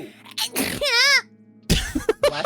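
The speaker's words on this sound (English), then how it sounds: "It was Bavlorna sneezing." A video game character, Bavlorna, sneezes mid-game in a single sharp burst with a rising, wavering voiced tail, loud and close, with other vocal sounds before and after.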